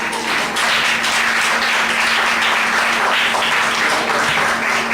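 A church congregation applauds, a dense, loud, sustained clapping that fills the room evenly for the whole stretch.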